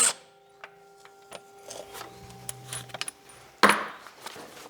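Torque converter bolts come off a BMW E31 850i V12 being disassembled, heard as sparse metallic clicks, taps and a couple of sharp clinks and rattles close by in a quiet workshop.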